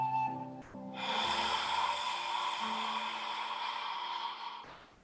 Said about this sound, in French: on va ajouter à l'expiration la respiration Hado qui fait avec la bouche ouverte